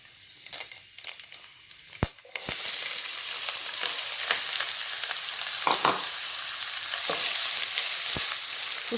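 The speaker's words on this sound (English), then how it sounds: "Now you have to add the onions, 2 finely chopped onions." Two finely chopped onions frying in a pan for chicken ghee roast set off a loud, steady sizzle after a few sharp clatters. Occasional spoon scrapes and taps come through, and no one speaks.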